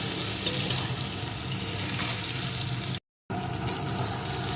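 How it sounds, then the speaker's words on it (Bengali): Turmeric, salt and slit green chilies fry in hot oil, giving a steady, dense sizzle up close with a brief dropout partway through. "এখন আমি এগুলোকে ভালো করে ভেজে নেব"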